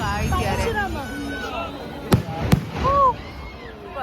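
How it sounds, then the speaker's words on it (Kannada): Two sharp, loud firecracker bangs go off amid crowd chatter and voices at the Thirthalli Teppotsava festival, followed by continued hubbub. "ಪಟಾಕಿ ನೋಡ್ರಿ ಎಂತ ಚಂದ ಇದೆ."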